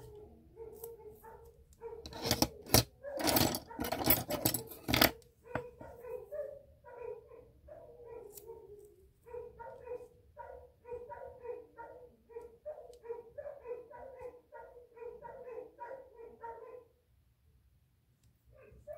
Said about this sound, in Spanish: los perros se les ocurrió ladrar